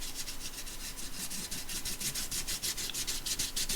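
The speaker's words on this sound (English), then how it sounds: "just rub it till it's the sort of opacity that you want" Gesso rubbed across a mixed media project surface, a steady, close, scratchy rubbing with regular back-and-forth strokes that continue without pause and no voices.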